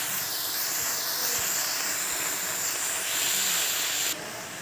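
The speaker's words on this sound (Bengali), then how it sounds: "ওলের পাতাগুলো দিয়ে আমি এটাকে কিছুক্ষণ সিদ্ধ করে নেব" Elephant foot yam leaves boiling in a wok, giving a steady, loud bubbling hiss that holds evenly throughout and drops slightly near the end.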